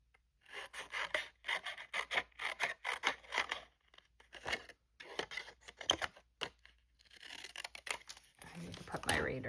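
Scissors cutting paper for an Easter junk journal dangle tag: quick bursts of close, crisp snipping and rasping, then rustling paper handling near the end.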